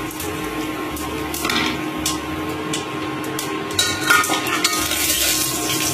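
Whole garam masala, star anise, fennel seeds and bay leaves frying in hot oil for biryani, a steady crackling sizzle with occasional stirring scrapes and utensil clinks close by.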